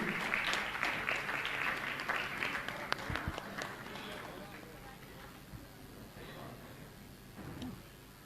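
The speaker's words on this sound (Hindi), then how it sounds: "ताली बजा के सम्मान करें आप सभी" A religious gathering's audience claps in applause, loud and dense at first, then thinning and fading toward the end, with background voices throughout.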